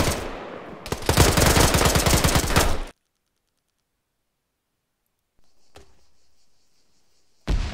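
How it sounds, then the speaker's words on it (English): Mounted machine gun fire in a tactical shooter game, a loud rapid burst lasting about two seconds, followed by silence, faint clicks and a sharp final shot. "It's a mounted MG in the first floor."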